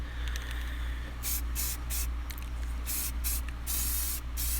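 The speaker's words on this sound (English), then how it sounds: "So now I'm just spraying some semi-gloss black here." Aerosol can spraying semi-gloss black paint onto car headlight housings: several short hissing bursts of varying length, close and steady, over a low background hum.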